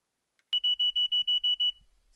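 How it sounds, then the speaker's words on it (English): A smoke detector with a failing battery gives eight rapid, loud, high-pitched beeps in an even rhythm, close by in a quiet room. "you're going to be plagued with an annoying beeping sound until I replace it"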